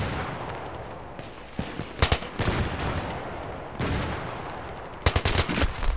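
Gunfire from a FAMAS or L85A2 assault rifle in Battlefield 3 on the Karkand map, with several sharp bursts of rapid automatic fire over a steady background of battle noise.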